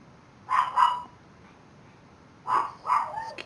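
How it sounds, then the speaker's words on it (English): A dog barks indoors, two pairs of sharp mid-range barks separated by a quiet pause, fairly close but not very loud. "Excuse the dog."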